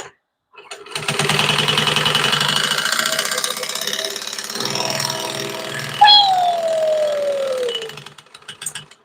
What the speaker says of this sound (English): Sewing fast is so much fun